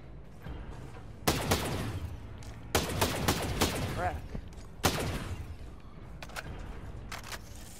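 Gunshots in the tactical shooter Ghost Recon Breakpoint, several loud separate cracks spread across the stretch with quieter pops between them, over game ambience and some background voice chatter.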